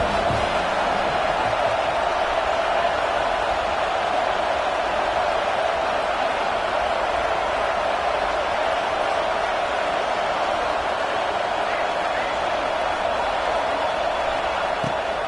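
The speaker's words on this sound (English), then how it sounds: "Decibels rising as the crowd gets behind this defense on third down." Football stadium crowd at a South Carolina versus Alabama game roaring behind the defense on third down, a loud, continuous wall of cheering and noise that holds steady without letup.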